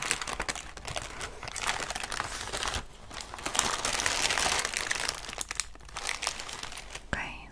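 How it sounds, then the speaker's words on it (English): Tissue paper crinkling and rustling during a beauty box unboxing, close and continuous with dense crackling bursts and brief pauses, soft and intimate. "I'm careful with the tissue paper because I want to reuse it for eBay."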